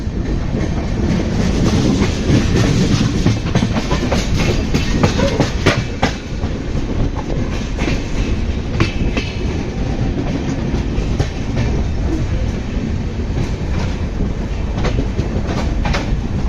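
Inside the NJP–Howrah Shatabdi Express as it runs on the rails, a loud, continuous rumble with a steady clickety-clack of wheels over rail joints carrying on throughout, no talking.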